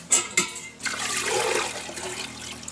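Water poured into a camp washbasin outdoors during a September fishing trip. A couple of short splashes come first, then a steady gushing pour that runs on to the end, close and fairly loud, with no talk.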